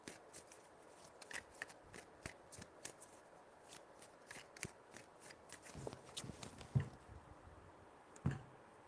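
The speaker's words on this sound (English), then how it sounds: "3 shuffles." Tarot cards riffled and shuffled by hand in three rounds, soft papery flutters and light slaps, with a couple of louder taps near the end, close and quiet with no talking.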